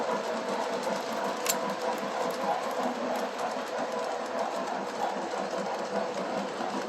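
A shiny model steam locomotive with a centipede tender running on track, a steady close rolling hum and rhythmic clatter with occasional sharp clicks.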